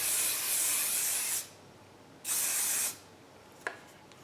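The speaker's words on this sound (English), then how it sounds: "So when I spray this on there" Hair product sprayed from a can onto very dry hair, with two long hissing bursts separated by a pause, then a brief faint click near the end.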